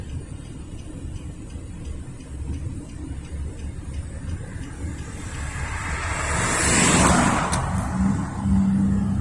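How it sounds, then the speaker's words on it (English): A car approaches and drives past on a road beside a CSX rail line in Lynchburg, Virginia, a steady rumble and wind noise swelling into a louder whoosh as it passes close by. "just let this car go by."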